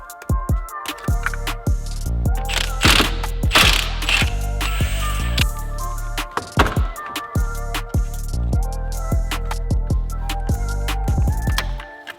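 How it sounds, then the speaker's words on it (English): Metallic clicks, ratcheting and tool taps ring out as a wrench loosens the battery terminal on a Mitsubishi Lancer Evolution, a dense run of sharp close-up knocks and scrapes with no talking. "I like to disconnect the battery."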